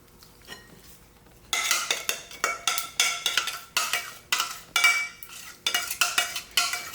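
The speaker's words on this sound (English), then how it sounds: "So you just want to stir this up like this." Cheese stirred into shrimp mac and cheese in a pot, a quiet start followed by a regular series of loud scraping, clanking spoon strokes against the pot, about two per second, with no talking.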